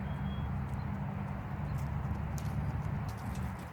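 A BLM mustang mare is ridden at a walk on her third ride, her hooves clip-clopping in a steady rhythm close by, with no talking.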